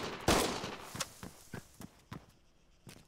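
Gunfire in an Arma 3 shootout: one loud close shot followed by a spaced series of sharper, lighter distant reports, each separated by roughly half a second.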